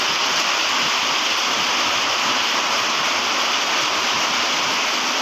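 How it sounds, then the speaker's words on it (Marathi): Heavy monsoon rain pours down behind a village house in Ratnagiri, a dense, unbroken hiss that stays loud and steady throughout with no voices. "डेंजर पाऊस."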